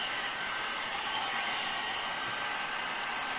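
A hot air brush blows steadily while hair is styled for a thin-hair volume blowout, a loud, constant whooshing hiss with no breaks and no talking.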